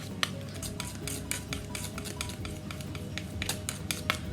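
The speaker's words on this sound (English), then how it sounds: "I'll give it another stir. See, I'm going to mix all the herbs in." A spoon stirs mixed herbs into tomato pasta sauce in a pan, giving soft, quiet scraping and clinking against the metal in an irregular rhythm.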